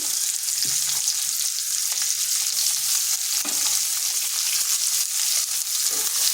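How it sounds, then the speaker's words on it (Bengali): Long-sliced onions fry lightly in mustard oil in a pan, a loud, steady close-up sizzle with occasional stirring scrapes and no talking. "পেঁয়াজটাকে হালকা ভেজে নিচ্ছি পেঁয়াজটা খুব বেশি ভাজবো নি"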